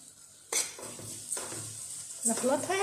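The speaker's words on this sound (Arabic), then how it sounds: "وراح اضيف ملعقة ثالثة دبس، ونخلطها" A spoon stirs date syrup into a sesame sweet mixture in a pot, giving a few scraping clinks and stirring bursts, quiet and intermittent with soft background noise.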